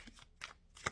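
Tarot cards are handled and laid out, giving a few faint, brief papery flicks and taps at close range, with quiet pauses between them.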